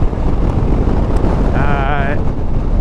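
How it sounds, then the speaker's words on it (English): Strong wind roars and buffets steadily the whole time, loud and close, with a brief tonal whine rising partway through, while riding a CFMOTO 800MT Touring motorcycle at the southern tip of mainland Australia. "It's quite windy"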